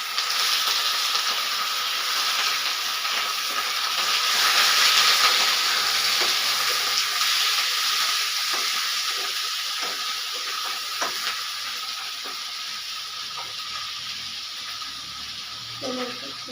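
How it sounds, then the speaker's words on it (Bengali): Chicken pieces fry in hot oil in a kadai for a meat and potato curry, giving a continuous broad hiss with scattered crackles, and a voice speaks faintly at times. "আমি কড়াইয়ে চিকেনগুলো ছেড়ে দিলাম"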